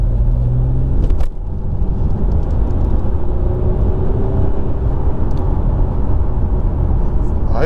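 A car accelerating hard from 30 to 50 while overtaking a row of traffic gives a loud, continuous engine and road roar that holds steady throughout.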